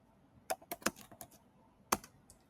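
Someone types an address on a computer keyboard with quiet, close key clicks in an uneven burst of taps, a pause, then a few more keystrokes.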